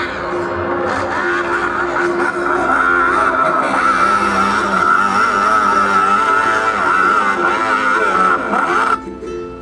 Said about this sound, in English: Vroom, vroom, vroom, with a loud sound, the motorcycle comes into town.